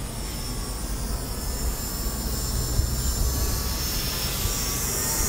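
A Desire Pro GPS drone with fail-safe return flies overhead, giving a steady, continuous whirring motor drone with a high tonal whine, fairly loud and unbroken throughout, with no voices.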